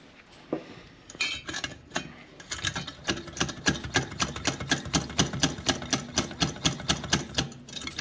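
Rapid hand-pumping of the fuel pump on a 1947 Coleman 530 G.I. pocket stove, first a few irregular strokes, then a steady fast run of rhythmic metallic squeaking pumps, close and clear with no voices.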